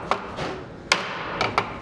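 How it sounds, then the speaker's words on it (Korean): A hammer tapping wooden joints of a hanok door frame into place, a few sharp separate knocks with quiet gaps between them, moderately close in a workshop. "연결 부분을 끼우고 아귀가 맞도록 망치로 두드리고 다시 길이를 재는 일이 반복된다."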